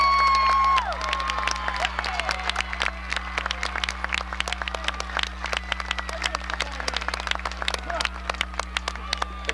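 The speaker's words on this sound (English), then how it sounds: "I think we owe him another round of applause." An audience at a 1994 regional high school band competition claps steadily, dense crowd applause with some cheering filling the room after a brief spoken moment, with a low hum beneath.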